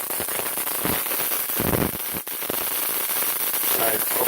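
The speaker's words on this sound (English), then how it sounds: "So we get that arc jumping." Electric arcs jump across the gaps of grounded hairpin rods with a dense, loud crackling and sizzling that runs continuously, one sharp snap standing out midway, and talk mixed in underneath.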